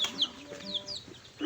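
Native chickens cluck nearby in a rural province yard, a few short, soft clucks and chirpy calls spread over a moment with faint background noise.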